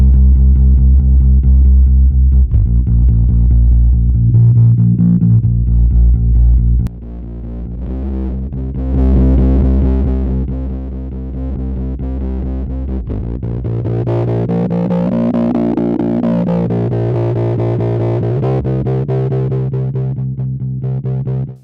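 Overdrive distortion from a Mixwave Electrodyne 511 EQ plugin pushed with an extreme boost colours a loud, gritty music passage, with a drop in level partway through before the saturated sound swells back.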